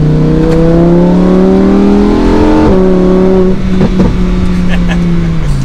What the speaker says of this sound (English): You get a little bit of gurgles on the exhaust.